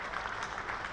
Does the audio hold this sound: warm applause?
yes